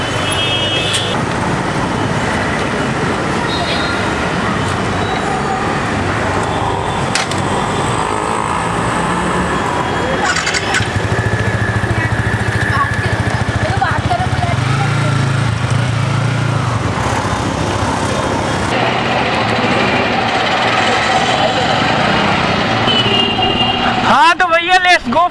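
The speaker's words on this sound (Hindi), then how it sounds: "तो फिलहाल अभी बाइक को चलाते हैं और देखते हैं" A 2019 Yamaha R15 V3 MotoGP Edition motorcycle ridden on the road gives a steady engine drone mixed with wind and traffic rush, loud and continuous, under a rider's talk.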